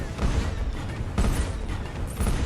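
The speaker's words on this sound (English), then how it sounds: "there's only 2 of each cannons firing at each other" Video game cannons fire in deep booming blasts, three heavy shots about a second apart over a low rumbling background.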